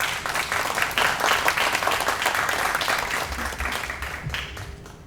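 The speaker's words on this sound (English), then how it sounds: "Please give a big round of applause." Seminar audience claps in a sustained round of applause, dense and fairly close, gradually thinning toward the end as a low hum rises beneath.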